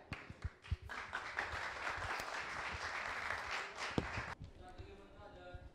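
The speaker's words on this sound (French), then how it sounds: "On applaudit s'il vous plaît." Applause from an audience at a quiz competition final, a dense burst of clapping that swells and holds for several seconds before cutting off, with a voice and some thumps mixed in.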